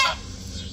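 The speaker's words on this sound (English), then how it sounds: "Here's all of our ducks and geese." A single short goose honk, fairly close, then quiet background.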